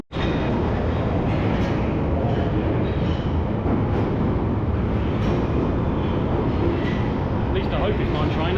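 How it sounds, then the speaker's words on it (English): A London Underground train pulls into Wood Green station, a loud continuous rumble and rushing roar of wheels and motors on track that holds steady, with a faint voice underneath. "Train's just coming in now."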